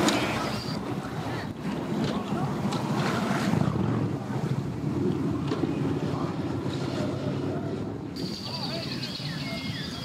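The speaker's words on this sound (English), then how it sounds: "it's pretty windy today" Wind gusts across open water at a busy boat launch, buffeting the microphone in a steady rough rush, with faint boat and water sounds and someone talking intermittently.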